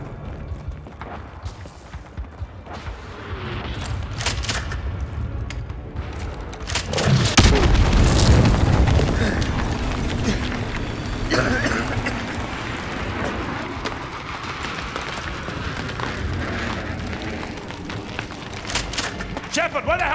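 Naval artillery bombardment in Call of Duty Modern Warfare 2 Remastered's Gulag mission, with heavy booming explosions swelling to a loud roar mid-clip amid gunfire, debris and shouted voices.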